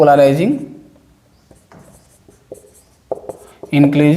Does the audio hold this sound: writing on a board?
yes